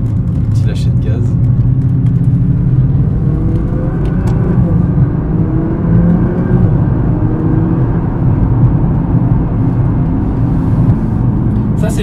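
Japanese sports car engine, with a Toyota Supra among the cars, easing off as the throttle lifts, a loud steady low rumble and whir lasting throughout, with someone talking over it.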